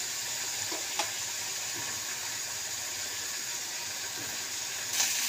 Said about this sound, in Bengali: এই যে মশলাটা কষা হচ্ছে